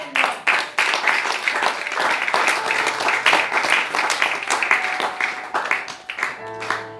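A church congregation claps and applauds to acclaim the Lord, a steady, dense round of clapping from many people that fades near the end.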